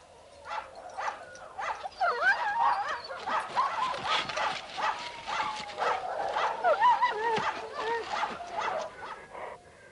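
Several sled dogs bark and yip in a busy, overlapping chorus, some whining excitedly, fairly close and steady throughout.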